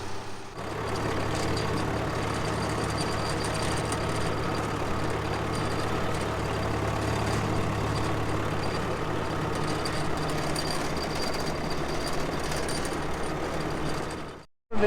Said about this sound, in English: The David Brown is there warming up.